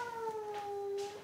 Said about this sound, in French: elle miaule parce qu'elle n'est pas très contente de voir la copine